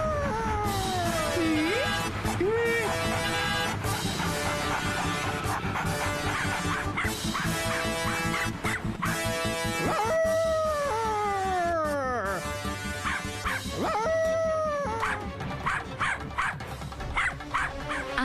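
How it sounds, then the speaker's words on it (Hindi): A dog named Sheru barks repeatedly in a cartoon setting, giving sharp, loud yaps in quick bursts over background music, with some whimpering, high squealing cries mixed in. "शेरू खड़े होकर भौंक रहा है।"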